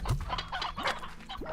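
Hens cluck in the Slime Rancher video game, a cluster of short, close clucks and squawks in quick irregular succession.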